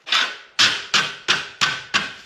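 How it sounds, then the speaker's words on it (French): A hammer flattens pieces of cut metal with six sharp, ringing strikes at a steady rhythm, each blow loud and close with a short decaying ring, and no voices. "des fois, je les écrase au marteau, parce que quand on coupe, ça les tord un peu."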